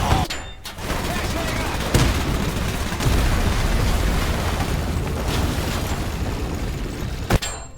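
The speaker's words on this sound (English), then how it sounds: "Fire the machine guns." Tank machine guns firing in the Men of War II strategy game, a sustained, loud clatter of gunfire with sharp blasts at the start, near two seconds and near the end, mixed with battle rumble.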